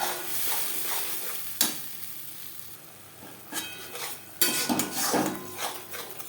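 A paste of ground ginger, green and ripe chillies, onion and tomato fries in oil in a wok after fish, with steady sizzling, stirring scrapes and a couple of sharp utensil knocks against the pan.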